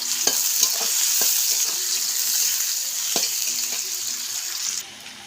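Chopped onions sizzle steadily in a hot pan for a snake gourd and fish vegetable dish, with intermittent scraping strokes of a stirring spoon; a close, continuous frying hiss with no talking.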